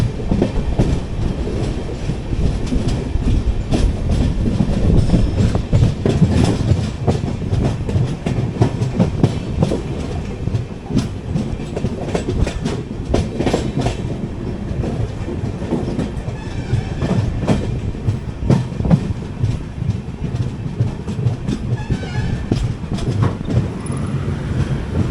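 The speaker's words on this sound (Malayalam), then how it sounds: "ജസ്റ്റ് ദാവൺഗര സ്റ്റേഷനിലോട്ട് കയറുന്നു." The Hubballi Kochuveli Express rolls into Davangere station, its continuous loud rumble and rhythmic clickety-clack of wheels over rail joints carrying on steadily throughout.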